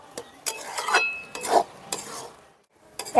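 Carrot halwa is stirred in a pan to cook off the liquid from added sugar, giving several scraping, sizzling strokes in short bursts with brief pauses, close and moderately loud, no talking.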